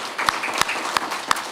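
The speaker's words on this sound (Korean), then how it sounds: "우리 하나님께 감사의 박수 한번 올려드렸으면 좋겠습니다." Church congregation clapping together in thanks during a Sunday morning worship service, a steady, moderately loud patter of many hands with a few sharper claps standing out at a regular beat.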